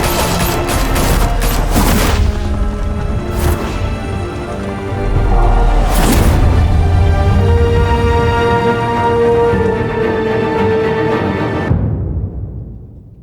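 Heavy gunfire erupts in Telltale Batman, a dense volley of shots with booming impacts, loud and close, carrying on for several seconds before cutting abruptly to silence.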